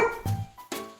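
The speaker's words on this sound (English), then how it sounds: "Bark." Short yips from a dog, three quick barks in about a second, fairly close and alone without talk.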